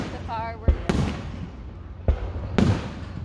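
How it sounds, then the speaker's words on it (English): Fireworks explode in three or four sharp, loud cracks spread over a few seconds against a low background rumble, with a short burst of voice between the first blasts. "The fireworks."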